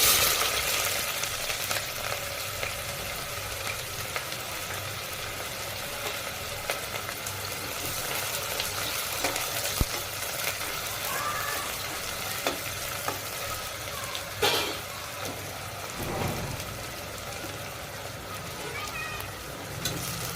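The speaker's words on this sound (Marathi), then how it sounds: "तेल याच्यात आपण जिरे टाकून घेऊ, छान परतवायचं" Cumin and whole spices, cinnamon, star anise, green cardamom, bay leaf and cloves, with onion, sizzle steadily in hot oil in a pot for veg pulao, a constant close frying hiss with occasional stirring.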